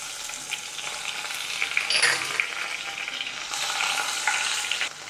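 Crushed garlic frying in coconut oil for an achinga and jackfruit-seed stir-fry, giving a steady close sizzle with faint stirring and a brief louder crackle midway, no voices.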